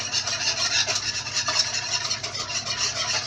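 A whisk scrapes and stirs wet ingredients for Betty Crocker brownie mix in a bowl, a steady, close, continuous rubbing for the whole stretch.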